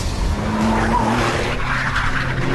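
A Porsche 911 997 Turbo drives hard at speed, its engine roaring loudly under a short burst of squealing, skidding tires, with no talk.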